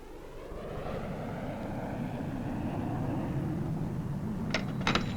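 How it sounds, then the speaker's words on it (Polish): Enemy airplanes in a 1966 film drone overhead as a sustained, loud engine roar with a slowly shifting pitch, joined by a couple of brief clicks near the end. "Samoloty!"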